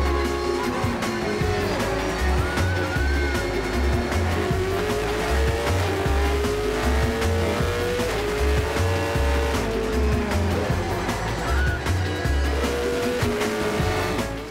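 Supercars race car on a hot lap, engine roaring loud and close the whole time, revs rising and falling through gear changes with tire squeal mixed in.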